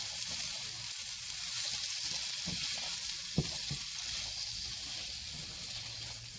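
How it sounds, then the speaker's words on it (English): Stuffing sizzles in a pan as it gets a quick stir, with a soft continuous hiss and a few light scrapes from the spoon, one louder knock near the middle. "I'm going to give this a quick stir."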